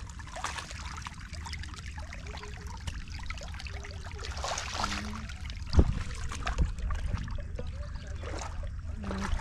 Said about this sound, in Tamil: அழகாக தண்ணி வழியாக இருக்குது